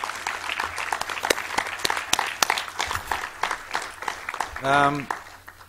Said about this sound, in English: Give Peter a round of applause, too.